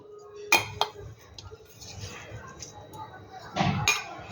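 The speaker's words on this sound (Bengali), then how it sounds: "মাছগুলো আমি প্রথমে কড়াইতে দিয়ে দিচ্ছি" Small kachki fish put into a metal kadai, heard as a couple of sharp clinks and knocks near the start and another cluster near the end, with quiet background noise between.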